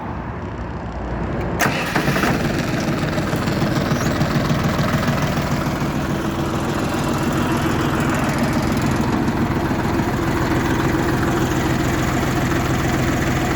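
A Lovol 244 mini tractor engine cranks and catches after a moment of quiet, then settles into a loud, steady low idle close by that continues without talk.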